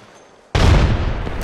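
A knuckle cluster grenade goes off in the game Apex Legends: a sudden loud, close blast after near-quiet, followed by a dense crackling rumble of cluster explosions that fades only slightly.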